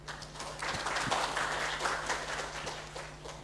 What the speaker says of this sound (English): Please join me in giving him a warm round of applause as we begin our seminar.